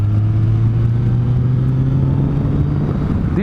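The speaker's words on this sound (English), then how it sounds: "You open the throttle, doesn't matter what gear you are on, and it just boom goes." A car engine revs loudly up close under open throttle, a deep droning hum that climbs steadily in pitch as the revs rise, with no talking.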